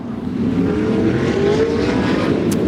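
Sprint cars roar around a Bunbury speedway in a loud, sustained engine drone, the pitch climbing steadily as the pack accelerates under green.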